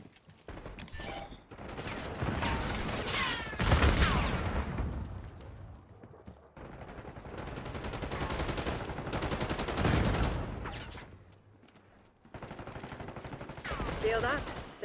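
Bursts of automatic gunfire in the video game Black Ops 6, loud rattling volleys in several clusters separated by short lulls, with voices speaking between and over the shots.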